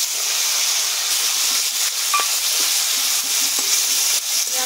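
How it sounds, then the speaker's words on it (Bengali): Onion paste sizzling in hot oil in a wok with whole cumin seeds and green chillies for a fish curry, a steady bright hiss filling the whole stretch with a few faint clinks. "পেঁয়াজটা একটু লাল লাল করে ভাজবো।"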